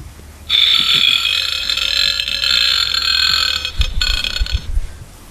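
A long, loud burp rumbles close up for several seconds, rough and sustained, breaking into a few choppy bursts near the end.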